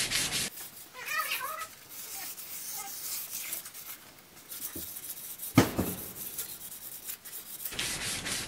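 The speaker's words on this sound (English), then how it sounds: "Seems like I've been sanding a lot lately." Close, rasping sanding strokes by hand come in bursts with short pauses, a dry scratchy rubbing against a Bridgeport milling machine part being readied for paint.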